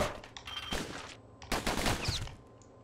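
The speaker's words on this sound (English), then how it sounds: "Just gonna keep shooting" Rapid gunfire in Bastion, bursts of dense crackling shots in two clusters with short gaps between, fairly close and alone with no talk.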